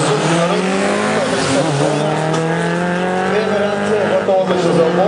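A Suzuki Maruti race car tuned to 170 hp launching in a drag race, its engine roaring loud and close with a rising, shifting whine, plus tire squeal.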